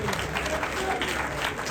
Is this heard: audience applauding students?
yes